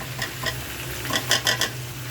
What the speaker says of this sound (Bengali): এখন এই তেলের উপরে এটা ভাজা ভাজা হবে।